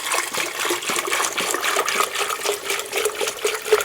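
AdBlue diesel exhaust fluid glugs steadily from a 2-gallon jug into the filler of a Volkswagen Passat TDI, a continuous close-up gushing pour with no one speaking.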